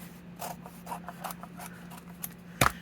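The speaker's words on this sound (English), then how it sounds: "you're going to cut down the center" A Golden Book cover being cut down the center of its spine, heard as a close series of short, dry rasping cuts that ends in one louder, sharper snip. No one speaks.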